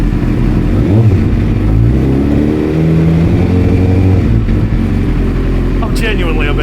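Suzuki GSXR 1000 motorcycle engine idling steadily right after firing up on old fuel and a dead battery, loud and close with a wavering pitch, while people talk over it.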